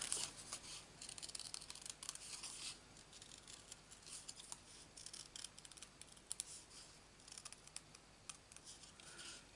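Scissors snip around a paper stamped card cutout in a circle, a steady run of quiet, close crisp cuts and paper rustle with no talk.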